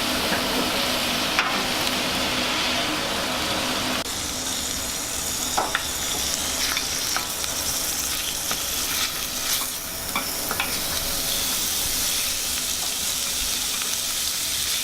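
Minced meat sizzles steadily in a hot frying pan while being stirred for a cooking competition dish, a continuous close frying hiss broken by occasional scrapes and clinks of the utensil, no voices.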